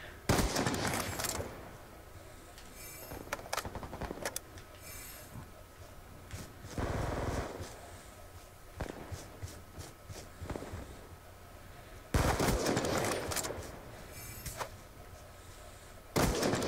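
Automatic gunfire in Call of Duty Black Ops 2, loud rapid bursts of shots separated by quieter gaps, a weapon that seems to fire repeatedly in several distinct volleys.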